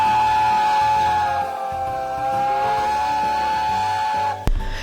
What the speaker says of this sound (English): So that is Sir Nigel Gresley's A4 chime whistle.